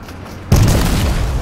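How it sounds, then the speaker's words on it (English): A grenade blast in the Fortnite video game hits with a sudden loud boom, then a rumbling, debris-filled tail that rings out alone to the end. "I got grenades, so I'll blow it up"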